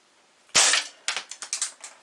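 Crosman 2240 air pistol fired during a chronograph test: one sharp loud crack followed by a quick series of five or six lighter snapping clicks, close and dry, with no talk.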